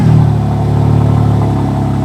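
A powerful BMW M3 S58 engine with factory exhaust drones loud and steady at high revs, a deep continuous roar with no voices.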